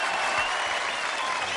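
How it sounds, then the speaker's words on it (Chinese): Children clapping for themselves in a group, a brief burst of dense, steady applause close by. "非常棒，还得自己鼓鼓掌。"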